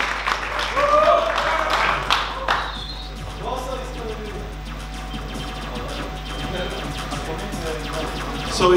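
Applause and cheering from an audience at the final ceremony of the Sofia Game Jam 2018. A burst of clapping comes early, then fades as voices talk over the room.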